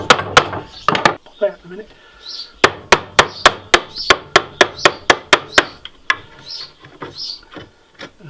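A chisel is struck with a mallet to cut wood fibres while building a bed frame for a van: a steady run of sharp, loud, close knocks at an even rhythm, with a few shorter bursts before and after and a voice speaking briefly.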